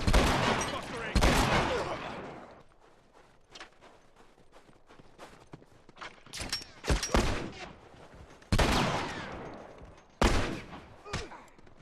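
Shotgun blasts in The Last of Us multiplayer, a few loud, booming shots spaced several seconds apart with fainter footsteps and smaller bangs between them.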